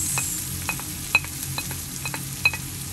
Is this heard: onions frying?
yes